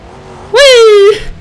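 A car in the driving game BeamNG.drive on gravel gives one loud, rising engine rev lasting about half a second, then drops back to a quieter hum.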